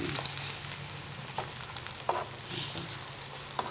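Banana slices frying in hot oil for banana cue, a steady close sizzle with occasional light pops and stirring clatter.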